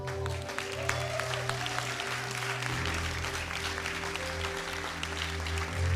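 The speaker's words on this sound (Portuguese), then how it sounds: "É para Jesus, dá uma salva de palmas melhor." A church conference audience breaks into steady applause for Jesus, a continuous dense patter of clapping over a low sustained organ-like drone, with no pauses.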